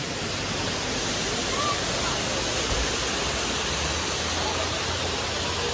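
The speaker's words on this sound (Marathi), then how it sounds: "सेकंड वॉटरफॉल बघू शकता." A waterfall at Malshej Ghat roars in heavy rain and thick fog as a steady, dense wash of rushing water. It fills the whole clip at an even level.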